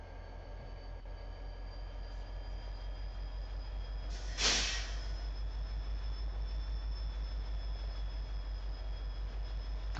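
A train rolls through the Yukon Valley map in a video game, a low steady rumble of wheels with a brief sharp hiss midway, constant and fairly faint throughout.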